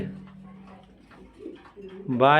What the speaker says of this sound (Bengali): চলেন আরেক পেয়ার কবুতর দেখানো হোক।